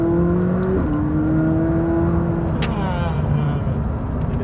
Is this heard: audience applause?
no